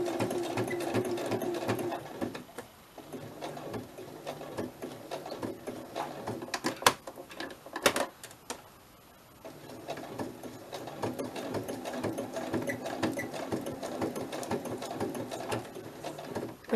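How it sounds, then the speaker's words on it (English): A sewing machine stitches in steady whirring runs, pausing briefly midway with a few clicks as the fabric is turned at corners, then resuming at an even pace. "when you sew, just take your time when you're doing little going around corners and stuff like that"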